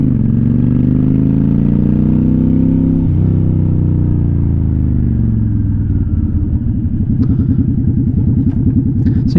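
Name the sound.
motorcycle riding and weaving on road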